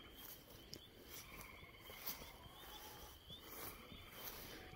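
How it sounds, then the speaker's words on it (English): Frogs calling at night on a stormy evening, a dense steady chorus of trilling and chirping at moderate distance with faint insects mixed in, continuous throughout with no voices. "Frogs are busy tonight."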